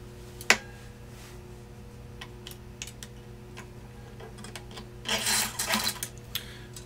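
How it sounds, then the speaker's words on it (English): Wire cutters snip an acoustic guitar string with one sharp, close click near the start, followed by quiet ticks and a short burst of rustling handling later on. "I'm going to take my wire cutters and just cut it halfway through."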